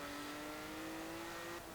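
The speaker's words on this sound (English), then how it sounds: "I'm not a massive fan of the engine noise on this car" A 1992 Ferrari 512 TR engine in Forza Horizon 4 holds a steady, droning note, loud and close throughout with no change in pitch, then eases off slightly at the very end.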